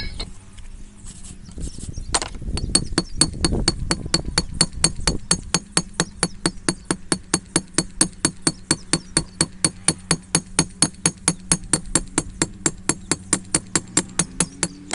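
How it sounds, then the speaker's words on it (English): A hammer strikes a steel knife blade in a fast, steady rhythm of bright ringing clangs, dozens of evenly spaced blows close up while forging the bevel. "hit it with my hammer on one side, and then flip it over and do the same thing"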